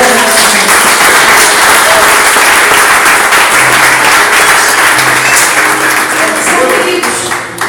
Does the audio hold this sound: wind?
no